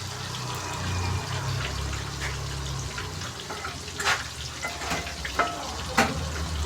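Spinach thoran with grated coconut stir-fried in a pan, a steady close sizzle with scraping spatula strokes and a few sharper clinks near the end, no talking.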